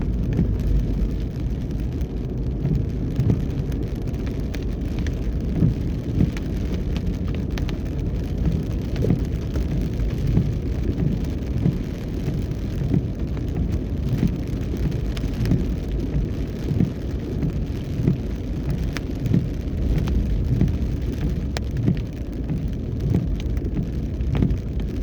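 Heavy rain drums steadily on a car driving through Kingston, Jamaica, a dense continuous patter with faint road rumble underneath and no voices.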